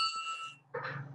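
A small hand bell rung once to close a council general meeting, a short bright ring with lingering tones, followed by a low hum and a brief rustle.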